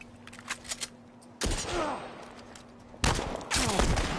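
Gunfire in The Last of Us Part I video game arrives in two loud, sharp bursts with rattling shots and echoing tails, separated by quieter moments with faint background noise.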